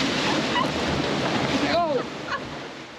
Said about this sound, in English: You will spin and splash through nearly a half mile of rapids on Mystic River Falls.